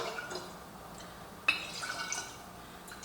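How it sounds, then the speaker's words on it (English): Water is poured into a jar holding leftover home-preserved ingredients, making a quiet, thin trickle with a brief sharp splash partway through and some soft drips. "I'm just going to put a little water, get any extra goodness out of them."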